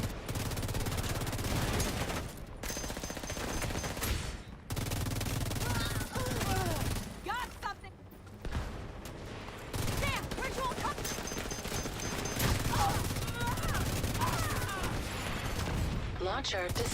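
Video game gunfire empties a magazine in long, rapid automatic bursts broken by short pauses, loud and close, with a player talking over the shooting.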